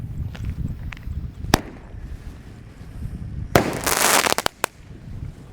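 A golden blitz firecracker goes off with two blasts, one low and one high: a sharp crack, then a louder, longer roaring burst with a final pop, all over steady outdoor background noise.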